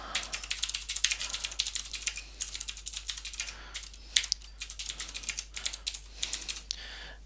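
Fast typing on a computer keyboard, bursts of crisp clattering key taps with brief pauses, close and fairly quiet, with no voices.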